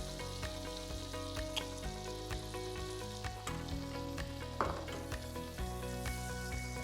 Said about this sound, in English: let it melt first, basically become like caramel